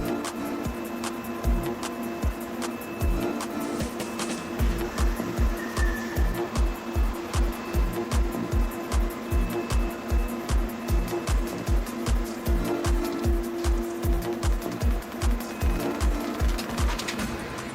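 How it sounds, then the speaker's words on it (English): Automatic can-seaming machines on a sardine canning line, a rapid regular mechanical thumping and clatter with a steady industrial hum, continuous and moderately loud. "the cans undergo a sealing process utilizing automatic seaming machines"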